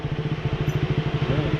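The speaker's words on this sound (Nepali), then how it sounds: "त्यो बाइकको कुदाउनु भयो साउन्डहरू त" A motorbike engine runs steadily close by on a rainy monsoon off-road ride, its throbbing low pulse repeating in an even rhythm with no voices.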